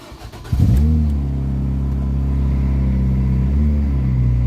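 A car engine with an exhaust problem cranks and catches after a battery change, then settles into a steady, loud idle rumble with a slight rev near the end, close by.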